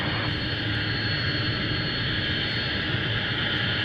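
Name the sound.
Boeing Dreamliner airplane taxiing under its own power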